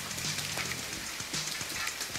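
Rain falling in the survival game The Forest, a steady soft hiss of drops with faint low tones underneath, continuous and fairly quiet throughout.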